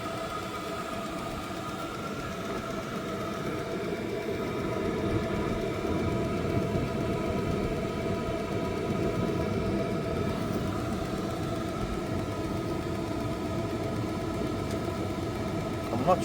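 A diesel heater under repair runs with a steady droning hum and tonal whine as it pumps air, continuous throughout, with someone talking over it.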